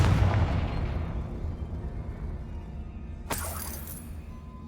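Confringo fire spell in the Hogwarts Legacy video game, a heavy boom that rumbles and fades over a few seconds, then a sharp crackling burst near the end.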